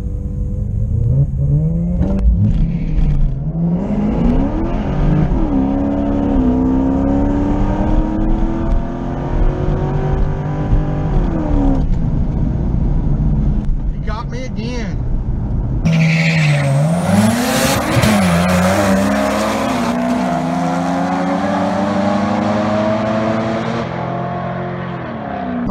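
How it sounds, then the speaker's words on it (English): A C5 Corvette on nitrous launches down a drag strip, engine roaring and climbing through gears while the tires spin and squeal, loud and close, then a second hard surge of revving. "I blew the tires off coming off the line"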